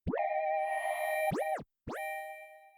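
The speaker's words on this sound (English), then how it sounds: "and then with the tape stop," A sustained synth note from the Xpand!2 plugin with a tape stop effect repeatedly bends sharply down in pitch as if the tape is slowing to a halt, drops out briefly, then swoops back up.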